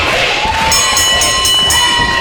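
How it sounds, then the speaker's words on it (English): A pro wrestling crowd at a New Wave Pro event cheers loudly and steadily, with rhythmic whistles and shouts carrying over the roar. "the New Wave Nation letting him know it by cheering Nikki Victory"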